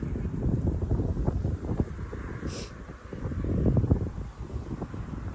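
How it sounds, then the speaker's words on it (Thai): Strong wind blows outdoors, buffeting the microphone with loud, gusty low rumbles that rise and fall throughout and swell hardest near the end. "เดี๋ยวลมพัดหล่นนะ ลมแรง"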